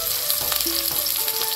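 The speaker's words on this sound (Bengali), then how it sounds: "এখন দেওয়া দিব অল্প করে সরষের তেল, দিয়ে দিব কাঁচা লঙ্কা," Green chilies fry in mustard oil with a loud, continuous crackling sizzle close by, bursts of spitting popping over it and no talk.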